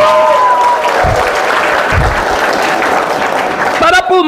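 A worship congregation claps together in steady, dense applause that fills the space at a loud level, with a brief tonal voice or music rising near the end.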